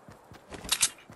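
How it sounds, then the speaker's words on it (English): Footsteps in the video game Fortnite, a quick run of light thumping steps leading into two louder, sharper clacks, fairly faint and heard alone with no talking. "Heard footsteps."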